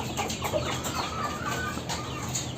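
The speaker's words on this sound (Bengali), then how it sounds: "এগুলো দেখতে পাচ্ছেন আমাদের ছোট ব্রাহ্মা মুরগিগুলো আনছিলাম" Young Brahma chickens cluck and chirp softly at close range in a cluster of short, overlapping calls over a faint background hiss.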